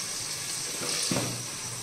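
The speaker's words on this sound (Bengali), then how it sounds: "তো হোক কাঁকরোল ভাজাটা।" Sliced spiny gourd fries in a pan, a steady close sizzle with a brief stirring scrape near the middle.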